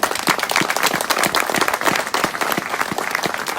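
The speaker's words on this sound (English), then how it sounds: "Please give them a big round of applause." An outdoor event crowd at a scale RC trail-driving gathering in South Wales gives the crew a brisk, close round of applause, with dense overlapping claps continuing steadily throughout.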